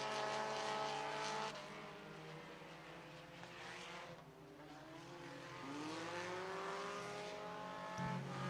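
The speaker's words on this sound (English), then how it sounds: "Six laps into this race and just 2 to go as John Cardwell trying to reclaim first place, running out of time" IMCA modified race cars at Sunset Speedway Park roar steadily around the track, several engines overlapping with rising and falling pitch as the pack passes, loud and continuous without talk.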